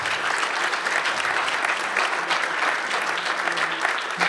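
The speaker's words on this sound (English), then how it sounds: "can we get one more round of applause for all of our presenters today?" An audience at a green infrastructure conservation seminar gives the presenters a round of applause, dense and continuous clapping close by, with no voices over it.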